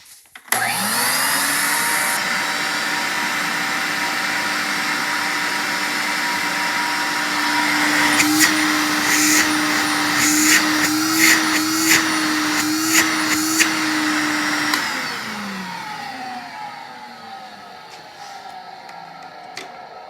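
An Electrolux vacuum cleaner motor starts with a thump and runs as a loud, steady whine with a low hum, then winds down near the end.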